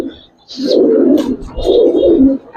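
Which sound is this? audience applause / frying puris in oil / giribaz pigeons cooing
giribaz pigeons cooing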